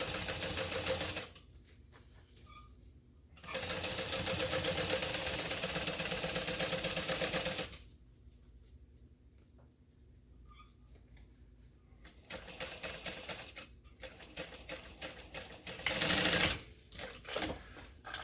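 A sewing machine stitches the fabric of a Dayna Pack backpack in bursts of fast, loud, even whirring, broken by quiet pauses, with a short final run near the end.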